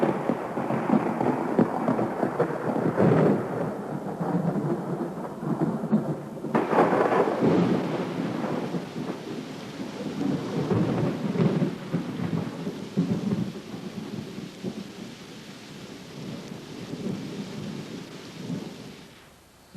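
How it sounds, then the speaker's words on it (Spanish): A heavy thunderstorm with loud rolling thunder and steady pouring rain, booming claps swelling and fading over a long stretch with no voices. "cuando Elías pidió lluvia, porque esa tarde Dios envió una tormenta que acabó con la sequía."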